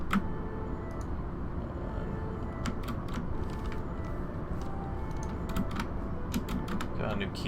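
Typing on a new computer keyboard, a scatter of light, irregular key clicks close by over a steady low background hum, with no speech.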